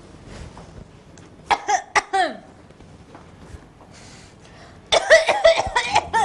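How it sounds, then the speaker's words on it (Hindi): A woman coughs in two bursts, a short cluster of harsh coughs early on and a louder, longer fit near the end, with quiet talk in between in an indoor comedy scene. "अगर तुम्हें इतनी खांसी हो गई है तो कुछ लेती क्यों नहीं तुम?"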